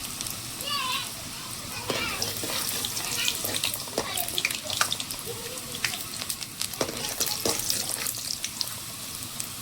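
Garlic and sour tamarind hit hot oil and sizzle loudly and continuously up close, with crackles and spatters under a person talking throughout.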